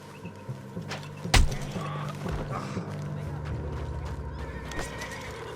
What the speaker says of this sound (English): What's got this horse spook, huh?